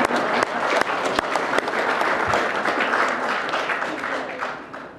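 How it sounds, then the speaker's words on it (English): Sustained applause from an audience at an Ontario government announcement on auto industry jobs, dense clapping filling the whole span with a few sharper claps standing out and tapering slightly at the end. "This is where you clap"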